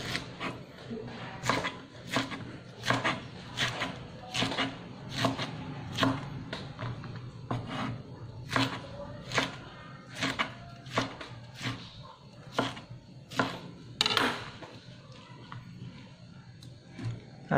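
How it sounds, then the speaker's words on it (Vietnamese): A knife cuts pineapple into thin slices for Vietnamese sour fish soup, making a close, rhythmic series of about twenty sharp cuts, roughly one every second, over a quiet kitchen background. "Khóm thì mình sẽ cắt miếng mỏng ra luôn."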